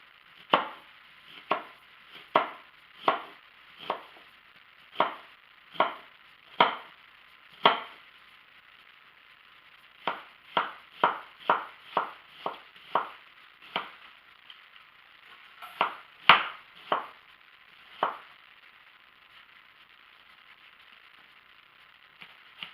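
Knife chopping an onion finely on a board: about two dozen sharp, close knocks, spaced evenly at first, then quicker clusters after a short pause, with quiet between strokes.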